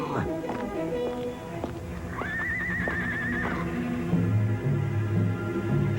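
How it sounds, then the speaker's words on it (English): Horses whinny and neigh amid a busy, tense scene, with a long high whinny standing out and hooves clopping underneath, mixed with voices and other activity. "horses!"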